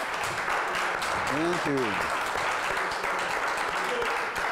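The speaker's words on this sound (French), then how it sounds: "Je veux qu'on applaudisse encore une fois." Studio audience applause on a French-language TV talk show, a broad steady clatter of clapping filling the whole stretch, with a brief spoken thanks heard over it.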